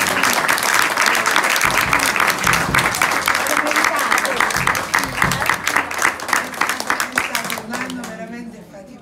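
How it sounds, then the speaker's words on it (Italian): Audience applause at a school music concert by a liceo artistico musicale at Villa Fiorentino, a steady dense wash of clapping that carries on for most of the stretch before thinning out near the end, with a voice briefly audible. "E fatecelo un applauso."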